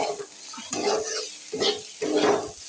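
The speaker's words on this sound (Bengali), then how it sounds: "করল্লা ভাজি করে নিচ্ছি" Bitter gourd frying in a pan on a stove, sizzling up close, with three or four rhythmic bursts of stirring and scraping.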